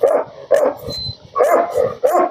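A dog barks in short, sharp bursts at a dog kennel, about five yips and barks at uneven intervals, loud and close with brief pauses between.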